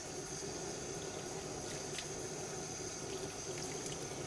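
Water runs steadily from a tap while shampoo is rinsed off a toy poodle puppy, a continuous even hiss and splash, moderately close, with no talk.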